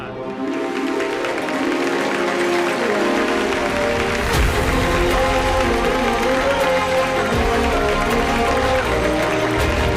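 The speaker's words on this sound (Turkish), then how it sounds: "Şimdi lütfen bir alkış alalım." Applause rises for a police commissioner at a formal gathering in a drama series, steady crowd clapping blended with music-like tones, continuing loud and even throughout.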